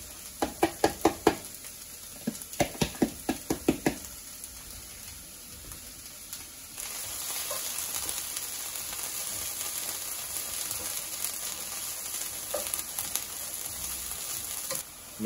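Peppers and onions fry in olive oil for a vegan spaghetti, opening with a burst of loud utensil knocks and clatter before settling into a steady, even sizzle that carries on alone.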